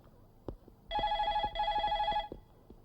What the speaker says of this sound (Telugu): ఫోన్ రింగ్ అవుతుంది అర్థమే.